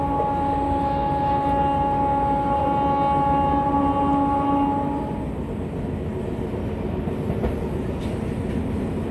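MEMU passenger train running toward Tatanagar, a loud steady rolling roar with a sustained horn-like tonal whine that fades midway while the rumble of the moving train continues.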